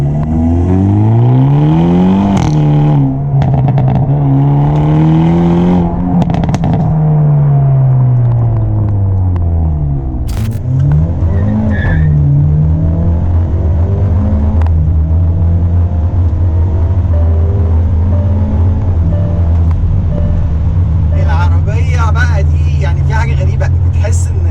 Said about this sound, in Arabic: هنبدا دلوقتي بقى نركب مع بعض ونستمتع باصوات البكبكه والطقطقه